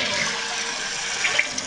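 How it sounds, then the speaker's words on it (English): A toilet tank refills with water after a flush, a steady close rushing and hissing of water running continuously without pause. "Water is filling,"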